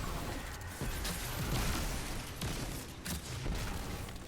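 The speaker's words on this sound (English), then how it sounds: "To start off with this room, I'm just going to throw both my skip grenades." Skip grenades thrown and detonating in Destiny 2 during a Hunter run through the Sepulcher lost sector, a dense, continuous stream of game explosions and gunfire crackle with repeated sharp bursts.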